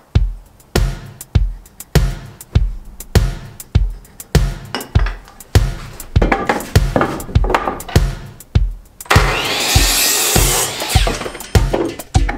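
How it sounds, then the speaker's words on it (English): Wooden framing studs are sawn to length for a closet in a Victorian home renovation, with a steady rhythm of loud, close sawing strokes, followed by a denser stretch of continuous cutting noise near the end. "And then we get the studs cut to length."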